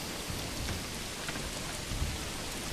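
Rain falling in the medieval city-building game Manor Lords, a steady broadband hiss with a low rumble swelling twice, like distant thunder, continuous throughout with no talking.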